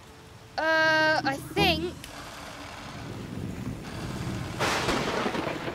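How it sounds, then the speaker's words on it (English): Heavy rain pours in a cartoon storm, a broad, steady wash of rainfall with a low rumbling undertone that builds after a brief voiced moment at the start. "It's pouring with rain."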